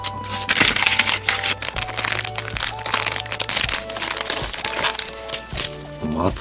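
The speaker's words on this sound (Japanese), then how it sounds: "まずはこのカイロをハサミで切って、この中身をですねペットボトルに入れていきます。" Scissors cutting open a disposable hand warmer packet, giving close, crisp crinkling and snipping cracks in quick irregular bursts.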